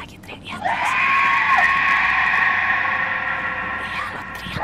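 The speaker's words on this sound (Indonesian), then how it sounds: "Ada si setan lagi teriak." A ghost in a horror video game lets out one long, loud, sustained scream with a steady wavering pitch, filling nearly the whole stretch close and alone.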